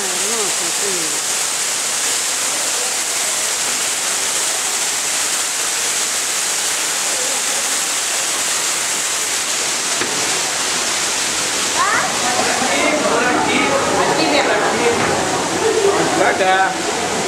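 An artificial waterfall at a zoo keeps up a steady, full rushing roar throughout, with people talking over it and some splashy texture in the last few seconds.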